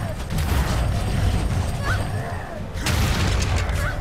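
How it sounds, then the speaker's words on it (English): Prison door being broken down in Guild Wars 2, heard through presentation speakers: heavy mechanical creaks, ratcheting and impacts repeating in loud bursts over a busy game mix. "Yeah, now they're breaking this prison door down."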